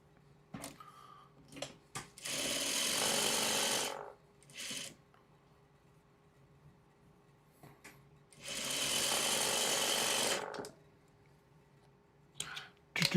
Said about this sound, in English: I will do these two blocks together. And we'll sew that up.